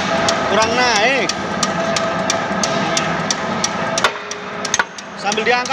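The hammer of the fourth punch press machine, a CE-4, strikes metal in a steady run of sharp, loud, evenly spaced blows over a humming motor, with a voice heard briefly early on.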